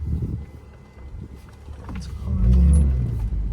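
A Nissan Altima pulls away, its engine hum rising and growing louder toward the end, with a brief mechanical whir partway through.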